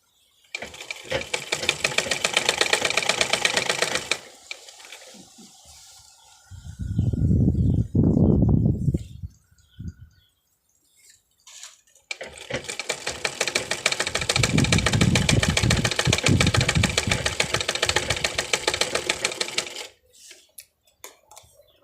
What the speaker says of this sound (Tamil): அதனால் இதை இன்சைடு வச்சு இப்படி தைச்சிக்கிறோம்.